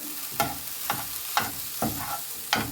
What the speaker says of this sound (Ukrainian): Ось так смажиться на сковорідці, додам кусочок вершкового масла, гарненько перемішаю